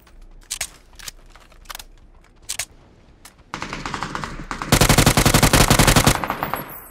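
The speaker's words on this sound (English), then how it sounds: "I'm gonna shoot them." Gunfire in the PUBG video game on the Miramar map, starting with a few spaced single shots, then sustained rapid automatic bursts, loud and close, building into a dense continuous stream near the end.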